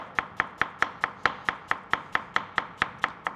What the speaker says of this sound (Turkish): soğanlarımızı doğrayalım